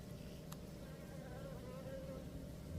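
Asian honeybees at a hive buzz in a dense, steady hum close by, a continuous faint drone without pause.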